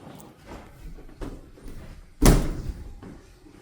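A door shuts with one loud, close slam, preceded and followed by softer thumps and knocks in a quiet indoor room during a paranormal investigation.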